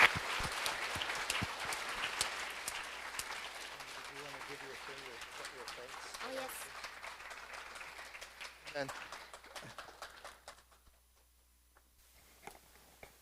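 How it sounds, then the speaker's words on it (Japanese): An audience claps for Yana and Chris at a gathering, a soft, fairly distant patter of applause under ongoing talk that thins out and fades to near silence toward the end. "では拍手をお願いします"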